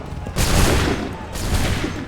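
Two heavy musket volleys from massed soldiers in Assassin's Creed III Remastered, each a dense, loud burst of overlapping gunfire roaring for nearly a second before fading, the second following close after the first.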